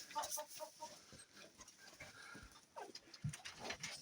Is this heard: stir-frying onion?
no